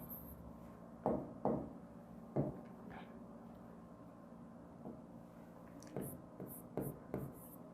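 Chalk or marker taps and scratches on a board during a classroom lesson, a few quiet irregular strokes in short groups over faint room noise.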